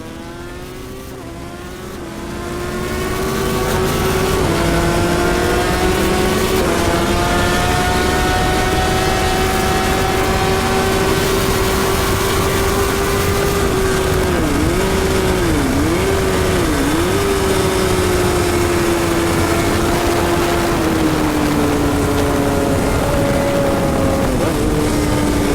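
A Yamaha R3 or R6 sport motorcycle is ridden hard on a race track during a fastest lap. Its loud, steady engine drone rises and falls with gear changes and brief dips in pitch, carrying continuously for the whole stretch without any voices.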